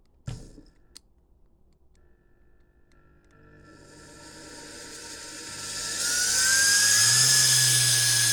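A washing machine motor wired to a drill trigger switch starts from a click and spins up to full speed, a rising whine that builds into a loud, steady high-pitched drone, with no talk.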